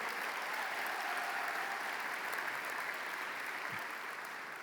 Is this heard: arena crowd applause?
yes